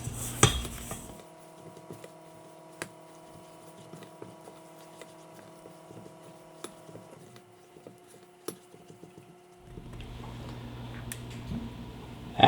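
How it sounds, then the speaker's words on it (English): Flour and packed brown sugar are stirred in a cold saucepan, with a spoon scraping and ticking against the pan in quiet, irregular strokes, close up and with no voices. "And then I'm just going to go ahead and stir that in."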